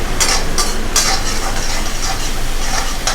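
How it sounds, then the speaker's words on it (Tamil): Soy sauce being stirred into paneer manchurian in a hot pan: steady loud sizzling with several sharp scraping strokes of a spoon against the pan, no voices. "சோயா ஆட் பண்ணிவிட்டு ஒரு வாட்டி நல்லா கலந்து வச்சிடலாம்."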